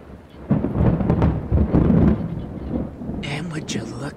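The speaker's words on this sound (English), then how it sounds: "Here comes that rain we've been expecting for about a week." Thunder rumbles through steady rain, broad and loud from start to finish, with a sharper hissing burst near the end; the storm sounds close and fills the clip.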